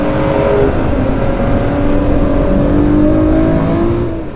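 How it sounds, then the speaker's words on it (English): A pre-production Ford GT drives on a race track, its engine a loud, steady roar with rising harmonic tones as it accelerates, heard close and alone for a few seconds. "So I got to get out on this track this morning before anybody else on race day in a pre-production Ford GT."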